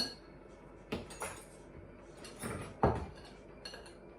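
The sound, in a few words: mixing deviled egg filling with a spoon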